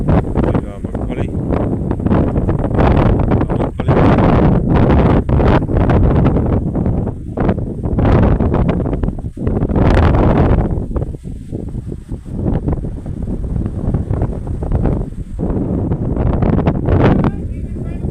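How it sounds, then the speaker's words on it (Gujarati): Strong rain-bearing wind gusting across open peanut fields roars into the microphone in heavy buffeting bursts, loud and uneven throughout, with rustling and occasional brief talking beneath it. "છે વરસાદનો જ પવન છે."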